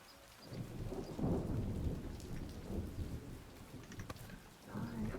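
Rain hisses steadily through a thunderstorm in the video game Swords 'n' Magic and Stuff, with deep thunder rumbling and swelling in several waves and no talking.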